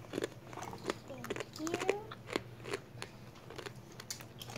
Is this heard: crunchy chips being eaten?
yes